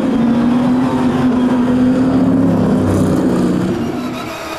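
Race cars lapping the Paul Ricard circuit in a wet-threatening endurance race, a loud, sustained engine drone with a steady droning pitch that fades slightly toward the end.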